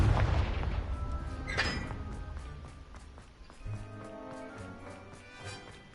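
A Confringo fire spell from the Hogwarts Legacy video game detonates with a loud opening blast, followed by a second burst and rumbling game effects that fade under busy background sound.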